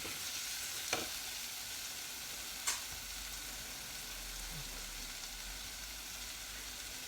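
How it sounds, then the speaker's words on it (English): Sweetcorn roasting in a little oil in a hot pan, a soft steady sizzle running throughout with two brief clicks near the start. "But I just want to roast the sweet corn off."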